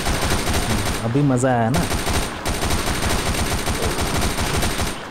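Rapid automatic gunfire in the zombie shooter game Unkilled, loud machine-gun bursts rattling on through the whole stretch while someone talks briefly over it.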